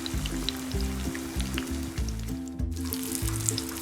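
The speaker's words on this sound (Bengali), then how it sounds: "এভাবে আস্তে আস্তে করে ভাজতে হবে, যাতে মশলাটাও ভাজা হয় আর বেগুনটা যেন ভালো ভাজা হয়" Eggplant slices fry slowly in spiced oil, giving a steady close sizzle and crackle that runs throughout, with background music playing underneath.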